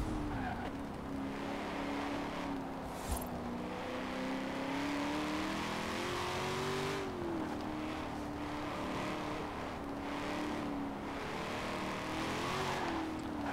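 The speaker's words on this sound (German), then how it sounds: "Mal ein bisschen Gas geben hier" Engine of a car in Forza Horizon 4 revving and accelerating steadily for over ten seconds, a loud droning tone rising and falling with gear changes, with light tire noise and no talking.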